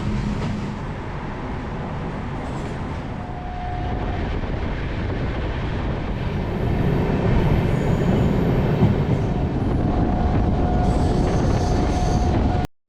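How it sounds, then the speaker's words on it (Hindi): An Indian Railways train with a WAP-12 electric locomotive rumbles steadily at close range, a continuous broadband roar with a faint tonal whine and hiss building slightly toward the end. "वो खड़ी है अपनी इंडियन रेलवे की शक्तिमान वेब 12।"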